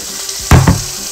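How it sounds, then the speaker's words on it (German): Zucchini frying in fresh oil in a pan makes a brief, close sizzle that bursts suddenly halfway through and then settles into a softer crackle, with no talk. "Jetzt gießen wir neues Öl dazu, um unsere Zucchini anzubraten."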